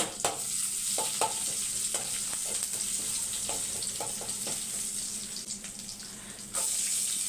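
Urad dal, a dried red chilli, curry leaves and crushed garlic fry in hot oil as a tempering, giving a loud, steady sizzle with repeated stirring scrapes throughout.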